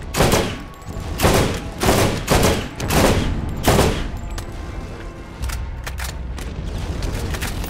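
Bursts of gunfire from a fire-element weapon in Borderlands, several loud close volleys in quick succession, then sparser scattered shots over a low background rumble with no voices.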